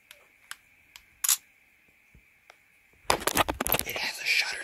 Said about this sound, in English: It has a shutter sound.